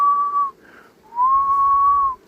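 A person whistles to call queen bees at an apiary: two clear, steady mid-pitched whistles, close and loud, with a short gap between them and faint low rumble underneath.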